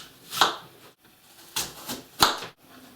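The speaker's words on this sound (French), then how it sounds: "La pomme Granny Smith, je vais la couper en 4." A knife cuts through a Granny Smith apple on a board, three separate chopping thuds about a second apart, crisp and close, with quiet pauses between each cut and no talking.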